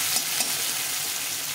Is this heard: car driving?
no